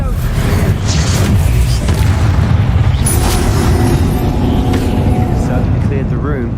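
The Bombarda explosion spell in the video game Hogwarts Legacy goes off as booming blasts amid combat noise, loud and close, with people talking over the din throughout.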